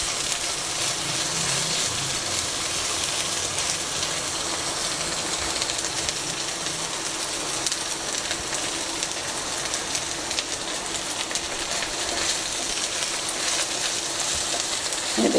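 Onion, ginger and garlic frying in a pan for chicken spaghetti, a dense, continuous crackling sizzle held at an even loud level throughout, with no talk.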